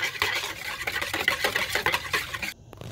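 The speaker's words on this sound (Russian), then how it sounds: "Теперь мы часто мешаем нашу яичницу." A utensil stirs scrambled eggs in a frying pan with quick, repeated scraping strokes, close and fairly loud, stopping abruptly near the end.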